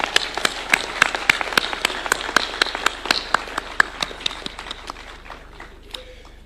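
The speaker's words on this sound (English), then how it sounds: "Let's clap for AGF." An audience claps at a Co-operative University of Kenya ceremony. The applause is close and fairly loud, a run of rhythmic, crisp claps that gradually thins out toward the end.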